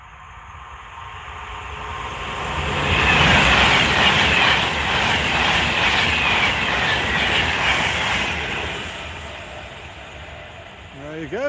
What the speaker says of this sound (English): That was a 390 Pendolino in the Pride livery.